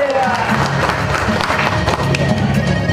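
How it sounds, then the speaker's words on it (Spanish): A crowd applauds at a quinceañera party, giving a dense, continuous patter of clapping mixed with cheering and voices in a lively indoor hall. "Fuerte los aplausos, viva la quinceañera."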